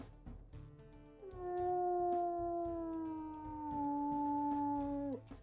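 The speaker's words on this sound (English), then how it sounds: "let's also go ahead and listen to his howls here" A gray wolf in the video game WolfQuest gives one long, clear sustained howl that holds steady and then slides slightly lower before cutting off, preceded by a few brief yips.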